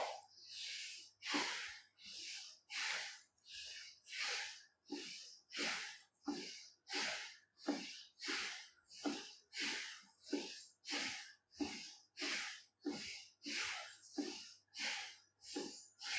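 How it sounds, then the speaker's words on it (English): Rapid, forceful breaths in and out through the nose during a breathwork exercise, repeating in a steady quick rhythm of about one and a half cycles per second, close and clear with no talking. "Breathing in and breathing out."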